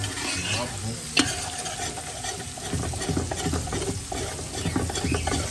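Onion frying and being stirred in a pan, a steady close sizzle broken by scraping stir strokes and one sharp utensil knock near the start, with no talk.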